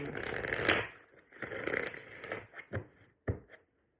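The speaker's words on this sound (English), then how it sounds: "One more shuffle." A deck of cards riffles in two quick bursts, followed by several short taps and slaps as the cards are squared up, close and fairly soft.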